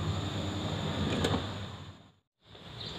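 A sliding door on a 2013 Honda Freed S automatic minivan, Indonesian market, is opened. It gives a near, fairly loud rolling slide that builds over about two seconds, then a brief silence, then faint cabin sound.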